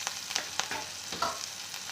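Green chillies frying in oil in a wok over low gas, a soft crackling sizzle with a few sharper pops, fairly faint and alone.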